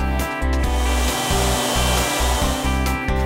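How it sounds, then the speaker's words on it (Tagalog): A low-temperature blow dryer drying an animal's fur roars loudly and continuously, its pitch wavering as the airflow shifts, with rhythmic dips as it moves. "pwede tayong gumamit ng blow dryer na mababa yung temperature"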